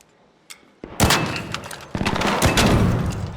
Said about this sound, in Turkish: oraya yakın bir silah sesi geldi